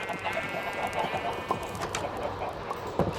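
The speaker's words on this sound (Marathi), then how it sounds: "हे बघा हरामी कोंबडा बघा कसा" A rooster makes a few short, faint clucks over a low background hum, with the sharper calls around the middle and end.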